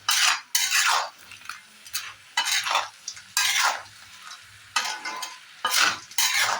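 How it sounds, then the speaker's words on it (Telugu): A crab fry dry-roasting with a spoon of pepper powder gets stirred in a pan, bursts of scraping and sizzling recurring in a rhythmic pattern about every second, loud and close. "అందులో 1 స్పూన్ మిరియాల పొడి చల్లుకొని డ్రై రోస్ట్గా వేయించుకోవాలి."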